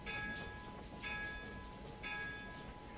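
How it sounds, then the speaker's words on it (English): A locomotive bell rings as a train approaches a bridge in a train simulator game on the Sherman Hill line, clanging at a steady once-per-second rhythm over continuous rumbling engine and rail noise. "The reason I got the bell going is because that's a common practice for for railroads in the United States, to ring the bell as the locomotive approaches a bridge."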